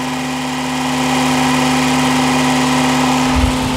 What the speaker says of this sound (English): I got a washing machine with a Tesla engine and I can adjust the speed with this frequency converter